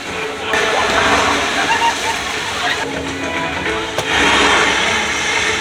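Water splashing and rushing at a Moana-themed water play attraction where jumping launches water into the air, a steady loud wash with a brief surge near the end and people talking over it.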